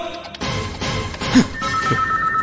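A telephone rings with a bright electronic tone repeating in short bursts across the clip, loud and close, over a busy background with no speech.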